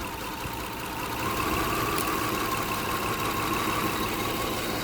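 A Toyota Kluger 3MZ-FE V6 idles steadily up close during misfire diagnosis, running a continuous even drone that swells slightly in level after the first second, with no talking.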